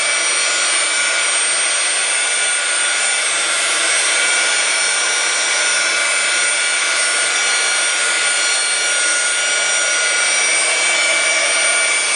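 A handheld dryer blows steadily and loudly at close range over a steampunk-style mixed media canvas while it dries. The rushing whir runs unbroken throughout, with no voices over it.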